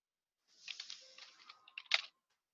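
Soft, quick keystrokes on a computer keyboard form a short, irregular burst of clicks, faint and close, ending in a few firmer taps and no talking.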